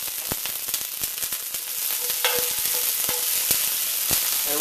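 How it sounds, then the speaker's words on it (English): Garlic and ginger sizzling in a hot wok, a loud, crackling hiss with quick stirring clicks and scrapes throughout. "The first thing I'm going to add in there is the garlic as well as the ginger. I'm going to give that a quick stir."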